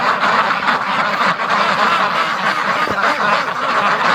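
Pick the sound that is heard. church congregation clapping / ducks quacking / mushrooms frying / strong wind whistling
ducks quacking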